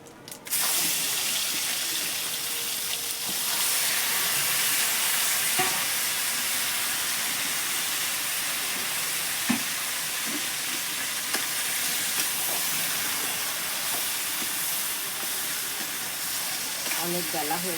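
Cumin seeds frying in hot oil in a pan give a strong, continuous sizzle throughout, close and loud, with occasional light stirring clicks.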